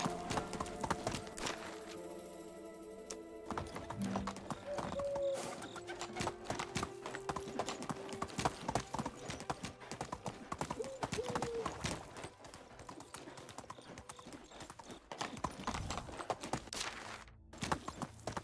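Donkey hooves clip-clop steadily along a path in the medieval village game Medieval Dynasty, a continuous walking rhythm with faint ambient birds in the background and no talking.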